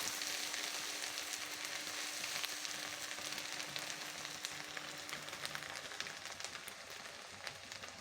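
Ground onion paste sizzles and crackles in a hot pan while being stirred for a Bengali pabda fish curry, a steady quiet frying hiss that runs unbroken throughout.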